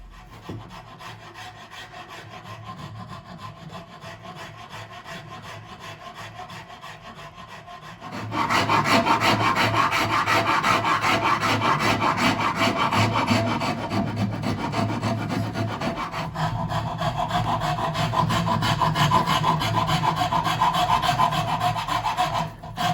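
Sandpaper rubs back and forth on the wooden body of an electric bağlama under construction, quiet at first and then louder, scratchy strokes that continue steadily and close by.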